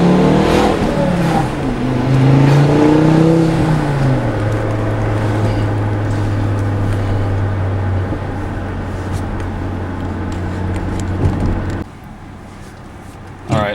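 Volvo S40 T5 AWD exhaust pulling hard in first gear, a loud close rising drone that climbs, then holds a steady roar before dropping off near the end.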